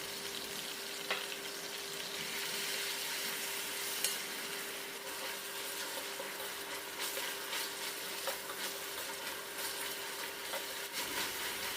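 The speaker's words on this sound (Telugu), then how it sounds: "మనం ముందుగా రోటిలో దంచుకుని ఉంచుకున్న ఉల్లిపాయ పేస్టు అలాగే ఉల్లిపాయ పేస్ట్కి సరిపడా కల్లుప్పుని వేసుకుని లో ఫ్లేమ్లో బాగా వేగనివ్వాలి" Onion paste and rock salt fry steadily on a low flame, a soft, even sizzle with faint occasional crackles running throughout, quiet and without voices.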